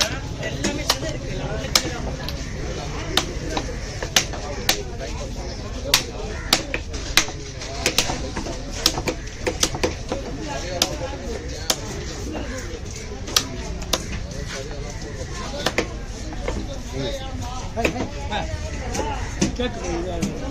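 A huge paarai fish being cut at the Kasimedu fish market: sharp, irregular chopping thuds, near and crisp, repeat throughout, under steady talking and background market chatter.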